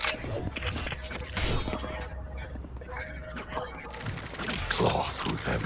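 Quick mechanical clicks and ratcheting, like a gun being reloaded in a video game, mixed into busy game noise with a voice talking over it.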